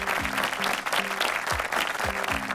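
A studio audience at a singing talent show claps steadily in a warm ovation for the coaches' team, with a few voices mixed in while music plays underneath.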